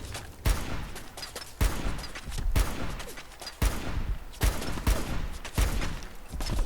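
Single gunshots from a gun in Fallout 4 crack out at a steady pace, about seven loud reports roughly a second apart, each followed by a brief rumbling tail.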